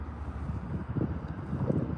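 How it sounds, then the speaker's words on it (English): Wind gusts buffet the microphone with a low, continuous rumble that swells and eases over two seconds. "It's getting kind of windy."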